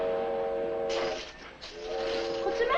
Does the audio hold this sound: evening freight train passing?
yes